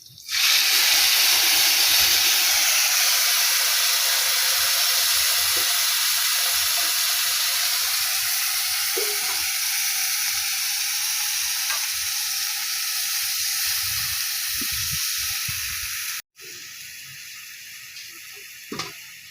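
Drumstick stalks frying in hot oil with nigella seeds, a loud, dense sizzle running steadily for most of the stretch, then dropping to a quieter crackle near the end.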